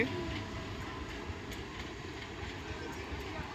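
Local train on the Bhiwandi to Vasai line rumbles past up close, a continuous loud roar of wheels on rails with faint clickety-clack, steady throughout.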